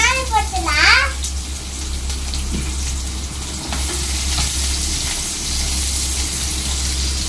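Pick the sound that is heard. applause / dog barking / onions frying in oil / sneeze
onions frying in oil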